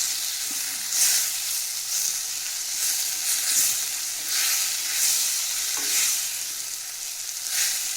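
Masala heats in oil in a pan before okra is added, giving a loud continuous sizzle that swells in waves, with occasional scrapes and knocks of a utensil.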